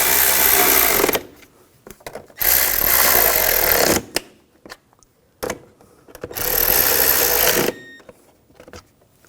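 A power tool tightens bolts during an alternator replacement on a 2006-2010 BMW 550i, whirring in three loud, close bursts of one to two seconds separated by quieter pauses with small clicks.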